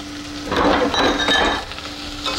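Chopped onion sizzles in browned butter in a pan, a soft crackling fry that swells after a moment, with faint stirring and a light clink of utensils.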